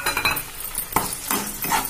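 Tomatoes tipped into a pan of fried onion masala, heard as soft stirring scrapes and light clinks of a utensil against the pan, close and moderately loud, with no talking.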